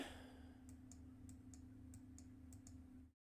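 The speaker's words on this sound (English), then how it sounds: "My mouse is too loud." A computer mouse clicks about eight times in a quick, fairly even run, quiet and close over a low electrical hum, with no talking.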